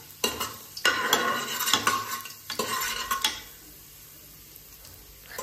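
Garlic frying in a pan while being stirred, made ready for mutton: a few sharp scraping, clattering strokes over a soft sizzle, then the sizzle fading to a quiet hiss. There is no talk.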